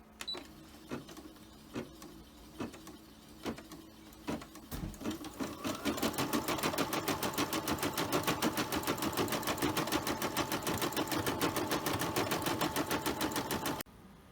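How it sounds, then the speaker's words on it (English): An embroidery sewing machine stitches out a pink felt flower, its needle ticking in a fast, steady rhythm after a few slower start-up stitches, close and continuous with no talking. "So now we're going to do the pink flower first."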